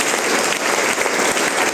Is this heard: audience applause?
yes